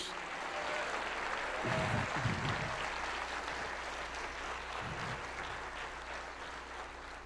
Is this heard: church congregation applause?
yes